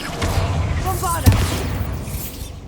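A Bombarda spell explosion in the video game Hogwarts Legacy, one punchy booming burst near the middle over a rumbling game backdrop, close and fairly loud, with a voice speaking just before it.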